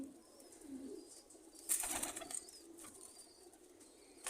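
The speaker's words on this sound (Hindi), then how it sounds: "ये कबूतर है" Soft cooing of pigeons close by in a pigeon loft in Multan, interrupted by a sudden burst of wing flapping midway, then quieter fluttering and cooing.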